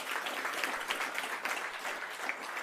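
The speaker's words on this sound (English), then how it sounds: "I want you to give yourselves a big round of applause," Audience applause at an office opening event, a dense, steady wash of many hands clapping together that carries evenly through the whole stretch without any talk over it.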